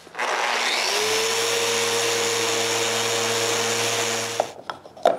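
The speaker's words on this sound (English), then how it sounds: "When the glue is dry, I sand this." A power sander runs steadily on a glued wooden box, a continuous close whirring hum with abrasive rubbing that holds for about four seconds before stopping, followed by a few light knocks.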